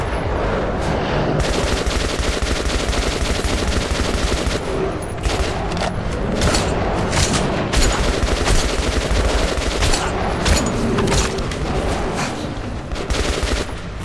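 Sustained, dense automatic gunfire in the video game Metro 2033, with rounds hitting the player: loud, continuous rapid bursts filling the whole stretch with barely a pause.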